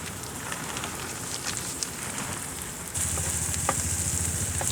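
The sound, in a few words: light rain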